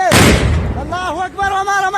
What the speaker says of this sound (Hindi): इसमें आपको गोलियों की चलने की आवाजें और बमबारी की आवाजें भी सुनाई दे रही